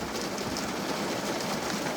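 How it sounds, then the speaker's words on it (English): Rain falls steadily outdoors as a dense, even hiss, with no breaks or individual drops standing out across the whole stretch. "it's raining on me"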